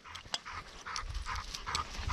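A hunting dog pants in quick, rhythmic bursts close by during a small game and bird hunt outdoors, steady and fairly loud with no talk over it.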